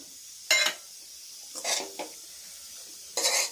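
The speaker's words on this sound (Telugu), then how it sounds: "నెక్స్ట్ ఈ వేరుశెనగ గుళ్ళు కూడా వేసేసుకుందాం లాస్ట్ని." Raw peanuts going into a hot oil tempering of mustard seeds in a pan, three short bursts of sizzling and scraping stirs separated by quiet gaps, no voices.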